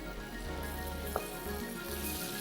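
Garlic ginger paste frying in spiced butter in a pan, a steady close sizzle and crackle throughout, with one brief tap partway through.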